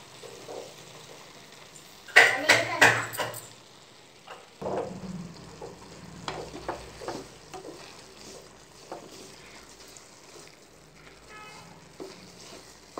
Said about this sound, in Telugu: ఇలా మంచిగా కలుపుకోవాలి.